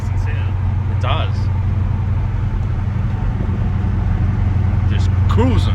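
A Holden VZ SS V8 with a new exhaust drones steadily while cruising in the rain, a loud continuous low rumble with faint tyre and road hiss throughout.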